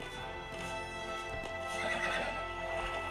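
A horse whinnies loudly and clearly over a steady background, with the clip-clop of hooves, in an animated RWBY episode; no talk is heard.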